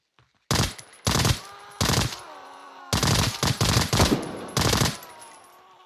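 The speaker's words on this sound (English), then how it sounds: "Listen how quiet that gun is." Suppressed gunfire from an MCX Virtus rifle in a video game, heard as short close bursts of rapid muffled shots separated by brief pauses, with clicks and ringing mechanical tails between volleys over near silence.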